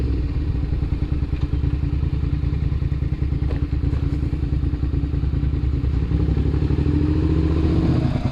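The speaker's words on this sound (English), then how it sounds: "The bike didn't need bump started for me to start it up right here" A 2006 Suzuki SV650S motorcycle engine runs steadily up close, a loud continuous rumble with a fast pulsing beat and light mechanical clatter throughout, no voices over it.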